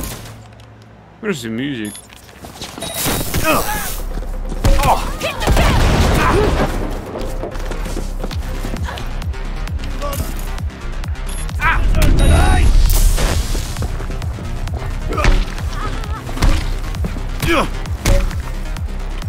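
Gunfire and explosions erupt in the video game Cyberpunk 2077 as bursts of shots and heavy booms crowd the scene, loud and close, with a voice speaking over the combat.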